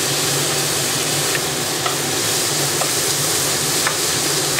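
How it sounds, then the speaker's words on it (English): Garlic and onion sautéing in a pan give a loud, dense, continuous hiss of frying, steady throughout with only faint clicks of stirring beneath, close and free of talk. "I'm going to saute for 5 minutes until you can see how soft it is."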